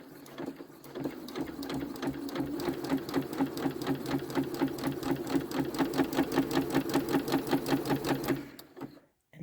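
A sewing machine stitches fabric at a shortened 1.8 stitch length for a holiday garland, running steadily with a fast, even mechanical chatter close by for about eight seconds before stopping.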